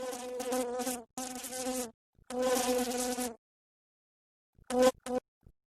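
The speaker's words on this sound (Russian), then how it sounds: "От мух Мухаяр." Flies buzz loudly in a fly-repellent advert: two long, close drones, then a pause and a few short buzzing bursts before silence.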